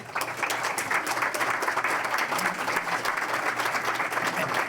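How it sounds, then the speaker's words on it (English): A panel audience applauds its moderator at a policy event, steady dense clapping filling the room from start to finish at an even level. "If you can give them a round of applause."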